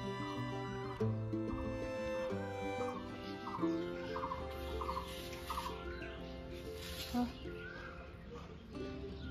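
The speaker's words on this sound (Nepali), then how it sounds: "कुखुराको चल्ला" Chickens and chicks in a rural Nepali village cluck and peep repeatedly over a steady, busy background, with no clear speech.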